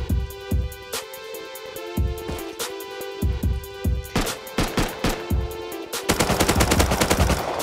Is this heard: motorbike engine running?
no